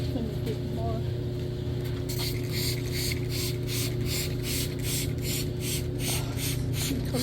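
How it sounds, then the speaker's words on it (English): A spray bottle mists a fern indoors, giving a series of rapid, evenly spaced hissing spritzes, close and clear over a low steady hum. "Sounds like bee spray"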